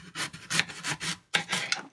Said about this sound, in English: Okay, so I'm cutting up the sweet potatoes